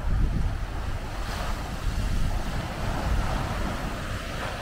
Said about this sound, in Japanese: ちょっとあの波は怖いな。